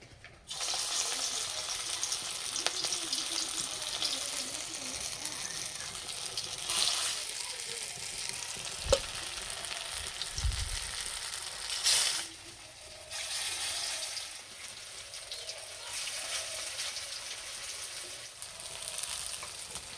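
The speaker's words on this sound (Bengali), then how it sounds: "ভাজার জন্য কড়াইয়ে সর্ষে তেল দিয়ে দেবো" Drumstick flower and fish fritters fry in mustard oil in a pan, giving a steady close sizzle throughout with a few brief clinks and short quieter moments, and no talking.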